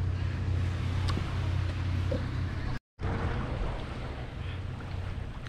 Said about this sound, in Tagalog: Sarap pakinggan ng dagat.